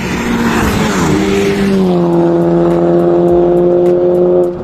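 A Hyundai Genesis Coupe 2.0T with tires lowered to 20 psi launches in a drag race, its engine roaring loud and close, then climbing steadily in pitch as it accelerates hard.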